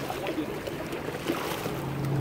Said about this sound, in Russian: Такая лодка промчалась.